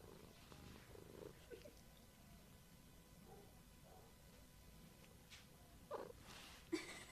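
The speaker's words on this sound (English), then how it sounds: "Oh, you're purring." A shelter cat purrs softly and close, a low steady rumble with a few faint rustles and small sounds near the end.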